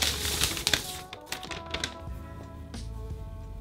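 Paper wrapping being pulled off a new MacBook Pro M1 Max 16-inch laptop, a quick series of close, crisp crinkles and soft taps, busiest at the start and thinning into quieter rustles.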